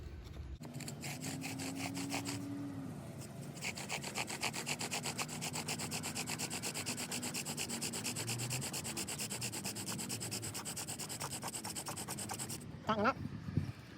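A bow drill with a paper mulberry bark bowstring spins a spindle against wood, a close, continuous rhythmic rasping and grinding of back-and-forth strokes that ends abruptly, followed by brief handling knocks.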